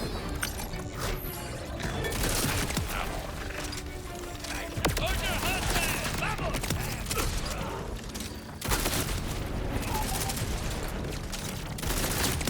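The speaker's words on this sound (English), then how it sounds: "I just want to go find another batch of enemies that I can shoot this shotgun at to see what that's like" Modded shotgun in Borderlands 4 firing at a ridiculous rate, dense continuous rapid blasts and mechanical clatter with a few brief breaks, loud and close, mixed with a voice talking over it.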